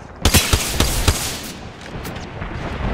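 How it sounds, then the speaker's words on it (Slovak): Gunfire in the battle royale shooter Apex Legends, a quick volley of sharp loud shots in the first second followed by fainter scattered shots under a dense rumbling background. "Ja neviem teraz, čo po mne strieľal, či môj teammate, alebo typci, ktorý tam bol"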